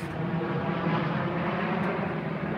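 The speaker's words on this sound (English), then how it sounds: "That was a plane that just flew overhead." Airplane passes overhead near an airport, a steady, broad roaring drone that stays loud and even throughout, with no talk.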